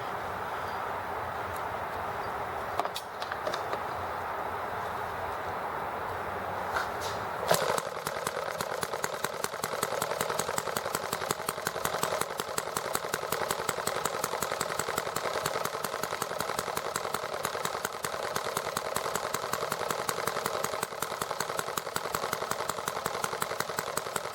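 A small ET8 scooter engine idles steadily after being started, heard close at the carburetor, with a fast even chugging that runs without a break and no voices.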